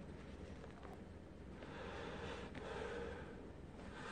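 Steady breathing through a Xiaomi face mask, close and continuous, with soft breath noise rising a little in the second half and no talking.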